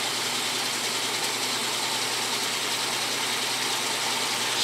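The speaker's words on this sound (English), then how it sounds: "Spray rinse coming in." A vintage Maytag washer running its spray rinse, water hissing steadily in a dense, even wash of noise with a faint mechanical rattle underneath, continuous and close for the whole stretch.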